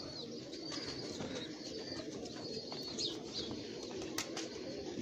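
Heera Lal pigeons cooing in a loft, soft repeated coos and chirps over a steady murmur of many birds, with occasional wing flutters, close by.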